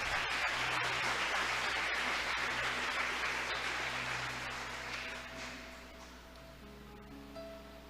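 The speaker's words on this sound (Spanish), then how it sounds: "Vamos a darle un aplauso al Señor" A church congregation claps together in a dense, broadband burst that fades gradually over several seconds, leaving a quieter tail with a faint sustained tone.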